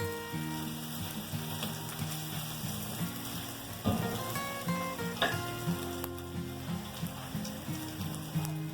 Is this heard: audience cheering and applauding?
no